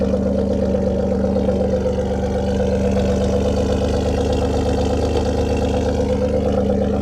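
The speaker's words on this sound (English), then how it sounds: "let me give you guys another cold start" A Ford Taurus Limited engine idles after a cold start, a steady, loud, close drone with a low hum that never changes pitch.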